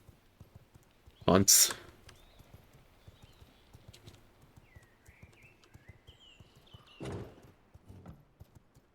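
Horse hooves clip-clop in the V Rising video game, a short burst of loud steps early on and a second softer cluster later, with quiet game ambience and a brief spoken word between.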